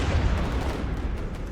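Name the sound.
grenade explosions in a WW1 video game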